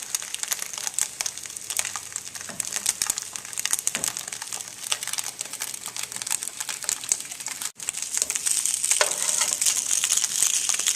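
Polenta grilling on medium heat beside a mushroom ragout made with tomatoes and mushroom stock simmering in a pan, giving a steady, close crackling sizzle with busy popping that runs throughout without any talk.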